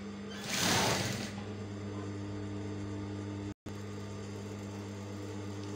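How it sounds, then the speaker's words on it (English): Sewing machine stitching around the leg of children's trousers, a steady mechanical whirr with a louder burst near the start, then a brief cutout before the running hum resumes, with no talking. "So I'm going to sew this all the way around."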